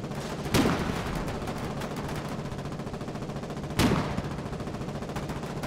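War video game gunfire: a steady stream of rapid automatic shots rattles throughout, with two louder, heavier blasts standing out near the start and later, close and loud, with no talk over it.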